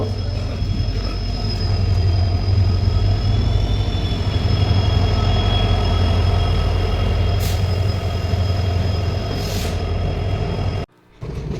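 A six o'clock train bound for Mysuru pulls into the station with a loud, continuous rumble of wheels and cars. High metallic squeals ride over the roar before it briefly cuts out near the end.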